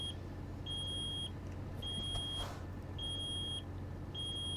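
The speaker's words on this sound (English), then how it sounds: "I don't know what that beeping is." Faint, evenly spaced electronic beeps repeat steadily inside a truck cab, each tone held briefly with a pause between, over a low engine hum and no talk.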